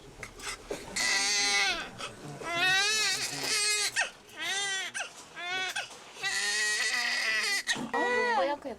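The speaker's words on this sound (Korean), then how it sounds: "산모의 양막이 터지고 이어 양수가 흘러나오자 이내 태아의 첫 울음소리가 수술실을 가득" A newborn baby's first cries fill a hospital operating room during delivery: loud, close wailing bursts repeating with short breaths between them.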